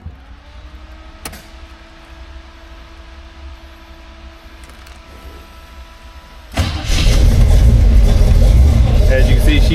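A 1934 Ford engine is cranked and catches after a steady low hum, then runs loud and rough with a dense, throbbing idle that fills the rest of the clip close by.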